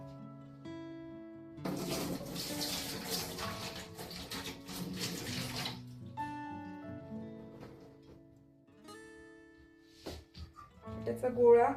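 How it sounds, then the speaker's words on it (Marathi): Water poured out of a vessel while puran poli dough is being kneaded, a steady splashing gush for several seconds, then it stops, with a voice speaking over it. "हे पाणी मी ओतून देतेय"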